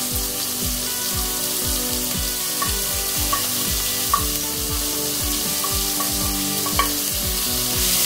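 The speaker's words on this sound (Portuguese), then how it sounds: "E vamos refogar aqui a cebola e o alho." Chopped onion and garlic sizzle and fry steadily in hot oil in a pan over high heat, with a continuous crackling hiss and a few brief spatters, no talking.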